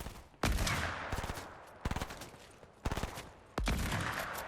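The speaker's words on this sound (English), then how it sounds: "I just got shot at" Gunfire in the Fortnite video game rings out in four sharp bursts of rapid shots, each opening with a loud crack and trailing off, spaced about a second apart with no talking.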